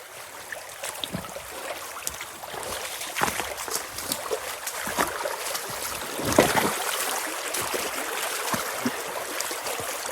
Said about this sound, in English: I can use my hand pump to pump water into that and hopefully, you know, remove stuff.